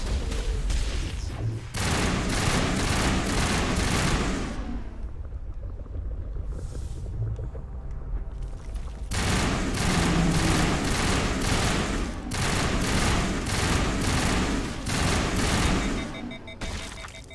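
Sustained automatic gunfire roars in a Mass Effect battle, loud continuous bursts that break off for a few seconds of quieter rumble, then resume at full intensity until near the end.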